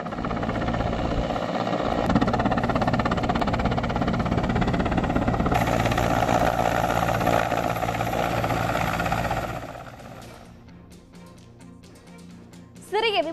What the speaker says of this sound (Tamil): சபரிமலை ஐயப்பன் கோவில் அருகே விமான ஓடுதளத்தில் ஹெலிகாப்டரை தரையிறக்கி சோதனை.